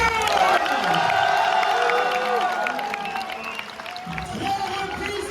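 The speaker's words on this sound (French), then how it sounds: "j'aimerais qu'on applaudisse Camille Saudois" Crowd at a boxing gala applauding and cheering a middleweight boxer as he is introduced, a dense, sustained roar of claps and shouts with whoops, loud and steady throughout, dipping slightly near the end before swelling again.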